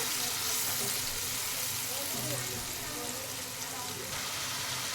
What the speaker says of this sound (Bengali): ভালো করে পেঁয়াজটা নাড়াচাড়া করে ভেজে নেব